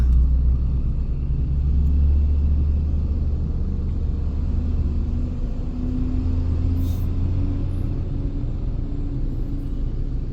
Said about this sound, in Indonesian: Aduh, ini mau ada truk.